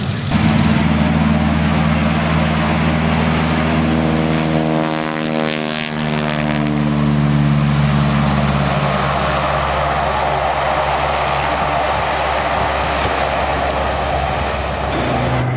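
Deep, rumbling propeller engines of an Avro Lancaster bomber idling nearby at an air show, a loud steady drone with shifting pitch as the throb rises and settles.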